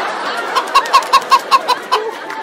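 A chicken clucks in a quick run of about seven short, evenly spaced clucks, fairly close and clear, with no talking.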